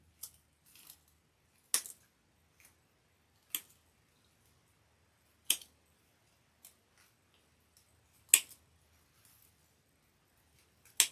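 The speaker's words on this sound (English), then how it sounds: "we're going to pick up our wire cutter and cut off the excess here." A wire cutter snipping off excess wire while making a Christmas globe pancake petite craft, giving several sharp, isolated clicks spaced a second or two apart in a quiet room.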